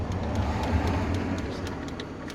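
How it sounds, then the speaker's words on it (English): Cars drive past on a road outside an open van door at a wild camp by Frensham Great Pond, a faint steady traffic rumble with a few soft passes and no voices. "Got cars going past."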